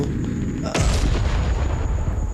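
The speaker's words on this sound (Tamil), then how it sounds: "இதுக்கும் மிசைல் போடுவோம், எல்லா மிசைலும் போடுவோம்" Missile explosions in the Solar Smash video game: a sudden loud blast strikes partway through, followed by a sustained rumbling roar of continued detonations that stays dense and heavy to the end.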